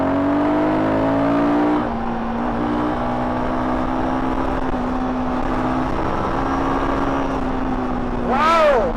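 Royal Enfield Guerrilla 450 motorcycle accelerating hard in third gear, a loud close engine note climbing steadily in pitch with wind rush, ending in a brief rising whine.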